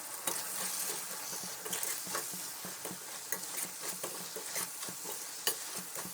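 A spoon steadily stirs turmeric and chili powder into a sizzling anchovy curry in a pan, with soft repeated scrapes over a constant frying hiss and no talking.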